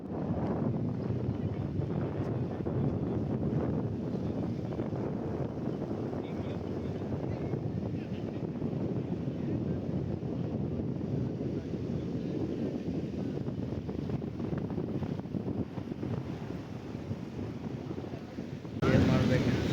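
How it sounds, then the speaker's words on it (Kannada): Strong wind beside the Tungabhadra river near Mantralayam, a loud, steady roar of gusts buffeting the microphone for the whole stretch, with a sharper burst at the very end. "ಮಸ್ತ್ ಗಾಳಿ ಅಂದ್ರೆ ಮಸ್ತ್ ಬಿಟ್ಟಿದೆ."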